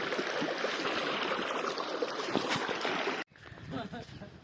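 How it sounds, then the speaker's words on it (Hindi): Irrigation water rushes steadily through a farm field channel, a continuous close splashing flow that cuts off abruptly near the end, leaving quieter sounds with a voice speaking. "ये देखो पानी चल रहा है"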